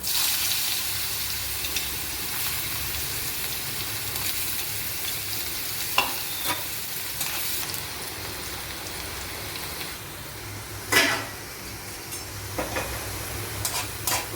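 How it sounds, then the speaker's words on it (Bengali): Carrot pieces fry in a hot pan, producing a steady, hissing sizzle like light rain, with occasional utensil scrapes and taps from stirring near the end. "গাজর ভাজা হয়ে গেছে, গাজরটা উঠিয়ে রাখছি।"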